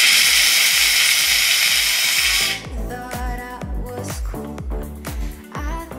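McCulloch steam cleaner at full pressure, a loud steady hiss of steam for about two seconds that then cuts off, leaving clattering and handling noises.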